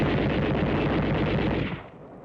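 Machine gun fire in 1945 World War II combat newsreel footage from the Burma Road area, a dense, loud, continuous rattle of rapid shots that cuts off into a fading rumble near the end.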